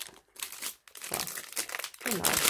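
Plastic packaging crinkles as a haul item is pulled open, in bursts of loud close rustling and crackling separated by brief pauses.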